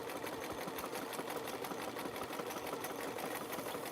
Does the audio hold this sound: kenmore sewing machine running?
yes